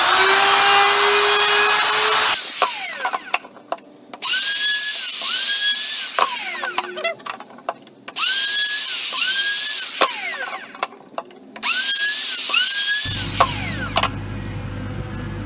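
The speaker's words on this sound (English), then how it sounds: "with the roundover bit, I'm gonna do the edges on all the holes" A router fitted with a roundover bit shapes the edges of holes in a wooden baby teether, giving several loud, high whining bursts of a few seconds each, with the motor spinning up and down between passes.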